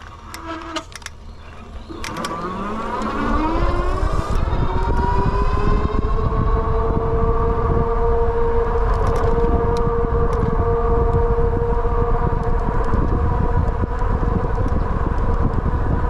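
The disc brakes on a Wallke H9 AWD e-bike give a loud, sustained, wavering squeal during a hot summer ride. The squeal rises after a few seconds and holds steady over the rushing wind and road noise.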